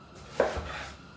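A knife chops an onion on a cutting board, one sharp close thunk followed by a faint second tap, in an otherwise quiet kitchen.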